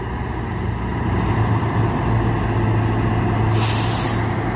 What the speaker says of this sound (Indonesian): Wow, padat truk bosku berkompoi.